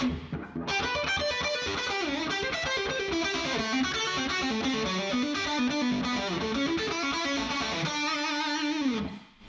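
Distorted electric guitar plays a fast, rhythmic classical line from a Bach piano piece, loud and continuous before a final sustained chord rings out and fades.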